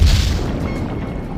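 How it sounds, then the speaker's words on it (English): Submarine torpedoes launch in a movie action scene, a single heavy low boom that rolls into a dull, rumbling wash and slowly fades, with no voices over it. "Torpedoes away, sir."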